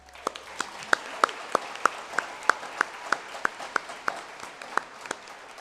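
Slow, evenly spaced individual handclaps ring out clearly at a school awards day for lower and middle school. Roughly a dozen and a half sharp claps come about every third of a second over a faint room hum.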